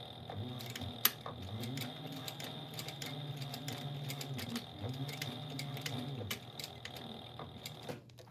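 A sewing machine stitches a tab onto the back of a holiday sewing project, a close, quiet, steady whirring hum with rhythmic ticking of the needle that runs continuously and stops at the end.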